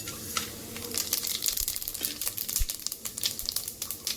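Whole spices, including cinnamon sticks and stone flower, hit hot oil in a pressure cooker and sizzle loudly and steadily, with crackling pops throughout and no talking.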